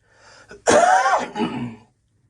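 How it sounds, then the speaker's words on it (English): A single harsh COVID cough bursts out close to the microphone, followed by a shorter rasping tail, with quiet before and after. "COVID cough, excuse me"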